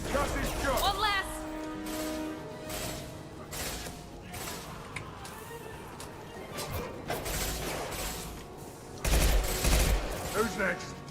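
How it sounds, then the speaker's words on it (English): Concussive shot fired in a Mass Effect firefight, loud gunfire bursts and impacts at the start and again near the end, with combat mechanisms and voices mixed in between. "Firing concussive shot!"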